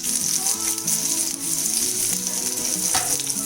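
Shallots fry in hot coconut oil in a frying pan with a loud, steady, bubbling sizzle heard up close. Occasional stirring sounds run through it and nobody talks.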